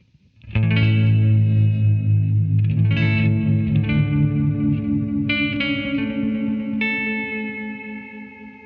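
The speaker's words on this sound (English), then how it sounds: "here I've made a little preset using the shimmer reverb on the same settings I've showed you before, but mixed with the pitch delay" A Zoom MS50G multi-effects pedal runs a shimmer reverb blended with pitch delay on an electric guitar, with loud sustained chords that bloom into a wavering, chorus-like wash of high shimmering overtones before slowly fading.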